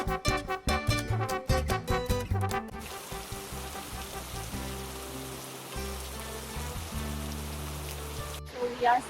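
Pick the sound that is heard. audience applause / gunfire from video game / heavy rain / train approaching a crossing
heavy rain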